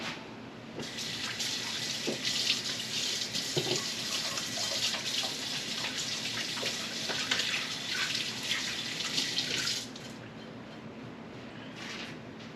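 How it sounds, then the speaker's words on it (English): Hands are washed under a running kitchen tap after handling raw bacon, a steady faucet hiss with light splashing that continues for about ten seconds, then the flow stops and only quiet room sound remains. "Just need to wash your hands after handling that bacon."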